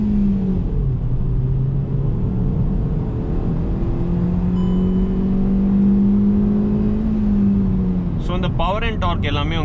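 A Hyundai Grand i10 Nios petrol engine accelerating, a steady rising drone with climbing pitch that holds for several seconds. A voice then begins speaking near the end.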